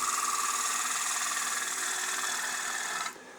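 A steady, continuous hiss of a wood lathe gouge cutting a turned wooden piece during a production run, holding an even tone before cutting off abruptly near the end.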